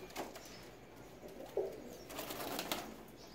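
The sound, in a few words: pigeons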